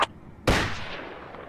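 A single sharp gunshot in the tactical military shooter Project Reality rings out loud and close, its echo trailing off for about a second, after a small click just before.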